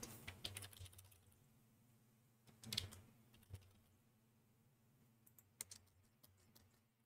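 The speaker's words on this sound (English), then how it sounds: "I'm going to type in" Computer keyboard typing in a quiet room, a few quick bursts of keystrokes with pauses between, near and fairly soft.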